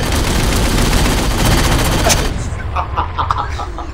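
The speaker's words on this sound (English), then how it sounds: "You're literally wasting your railgun shots." Dense bursts of gunfire crackle continuously and loudly in the Halo 4 campaign, then cut out after about two seconds, leaving a few scattered sharp shots and effects.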